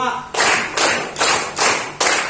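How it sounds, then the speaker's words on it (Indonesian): A classroom of students claps together in rhythm, five loud bursts of clapping evenly spaced about every 0.4 seconds, close and clear with no talking. "Oke, tepuk tangan semua."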